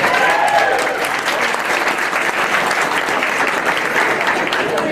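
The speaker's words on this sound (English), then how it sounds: "Another round of applause for Paula." Sustained applause from an audience at an awards ceremony honoring a presenter, dense and loud from start to finish, with a few faint voices mixed in.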